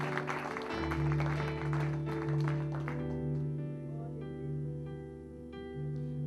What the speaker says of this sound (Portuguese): Você pode dar um forte aplauso assim.